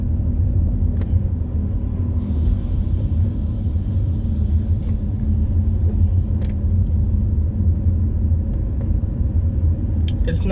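Steady low rumble of road traffic on a road in The Gambia after the first rain, vehicles passing continuously at moderate distance with a brief higher hiss midway, talk faintly underneath.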